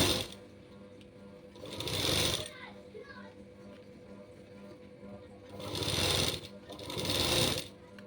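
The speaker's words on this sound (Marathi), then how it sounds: "परफेक्ट अशी शिलाई मारून घेतली." A sewing machine stitching a designer jacket runs in three loud, close bursts of rapid whirring, one around two seconds in and two near the end, separated by quieter handling noise and faint background voices.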